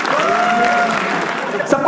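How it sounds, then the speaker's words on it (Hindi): Audience at a comedy roast show applauding comedian Ravi Gupta, steady close clapping mixed with a sustained tonal sound and some talk. "रवि गुप्ता के लिए प्लीज एक बार तालियां बजाइए।"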